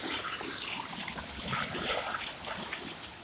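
Rushing, washing water noise with surging swells, like waves breaking and churning nearby; no voices.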